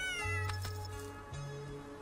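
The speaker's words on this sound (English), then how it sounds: "Cute stubby cat." A stubby cat meows in the video game Dordogne, two short, close meows over a soft musical backdrop.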